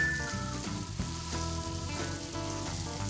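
Scallops sear in regular butter on a Blackstone griddle, giving a steady close sizzle with crackling under background music, no voices.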